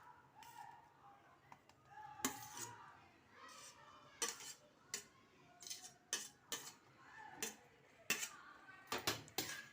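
Grated sweet potato is stirred into melted jaggery and ghee in a pan, giving a run of sharp spoon-on-metal scrapes and clinks at an irregular pace, fairly faint and close, with no talking.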